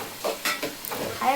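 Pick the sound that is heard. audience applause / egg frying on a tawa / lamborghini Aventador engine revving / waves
egg frying on a tawa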